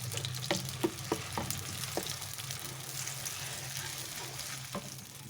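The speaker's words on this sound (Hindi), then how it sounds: "और अब मैं प्याज को अच्छे से ऑयल के अंदर मिक्स कर रही हूँ और इसको पकने देंगे" Ground onion stirred in hot oil for a gatte ki sabzi, with a crackling fry under several sharp spoon scrapes and clinks early on, then a steadier sizzle.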